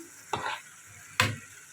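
Beef cooking with peppers in a frying pan, with two distinct stirring strokes, each a sharp scrape followed by a brief burst of sizzle, over a quiet background sizzle and no speech.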